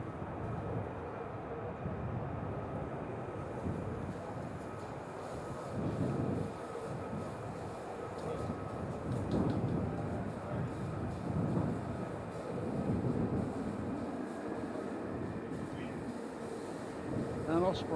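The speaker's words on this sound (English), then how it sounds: "An Osprey in the distance." A distant Osprey tiltrotor aircraft flying near RAF Lakenheath, a steady low broadband rumble that swells and fades slightly over time, heard alone and far off.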